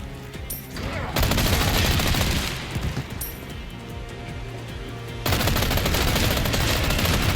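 A Chicago Typewriter fires in a video game, loud continuous bursts of rapid automatic gunfire with crashes mixed in, briefly easing off midway before the fire resumes at full intensity.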